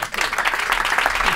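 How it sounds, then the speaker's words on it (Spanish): A studio audience gives a brief, dense burst of applause on a Spanish comedy show. The clapping is loud and close, with no talk over it. "Un aplauso gracias,"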